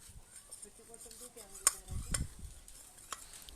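Powder and ghee mixed together by hand in a metal vessel, making soft scraping and stirring sounds with occasional light clinks of metal, close and quiet.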